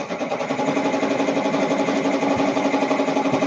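A multi-needle embroidery machine runs steadily in a hot home workshop, its rapid, even stitching chatter loud and close throughout with no voices.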